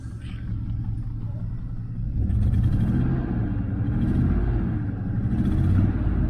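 A Chevelle with a swapped-in LS V8 idles nearby, a steady low rumble that swells slightly partway through and holds, with no speech over it.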